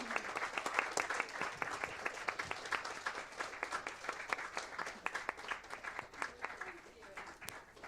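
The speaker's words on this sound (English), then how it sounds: "I want to applaud Damaris and Donna" Audience applause rings out at a health science event on the exposome, a dense, steady patter of many hands clapping, moderately faint and sustained, with a voice speaking faintly underneath.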